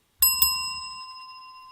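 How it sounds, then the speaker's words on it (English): Bicycle bell rung twice in quick succession, bright metallic dings that ring out and decay slowly in an otherwise quiet space. "I got to give you a bell"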